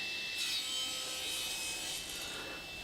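A handsaw cutting small wooden pieces in half for a spice box, with rasping back-and-forth strokes and a bright metallic ring, close and fairly quiet, with no talking.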